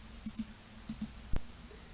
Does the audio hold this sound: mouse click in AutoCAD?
yes